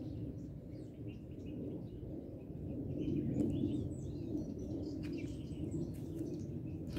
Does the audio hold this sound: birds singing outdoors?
yes